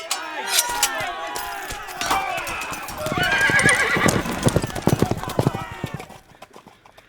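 Horses in an audio drama set in the Scottish Borders set off on a ride: loud whinnies and neighs, then a close, dense clatter of hooves with jingling tack, fading toward the end.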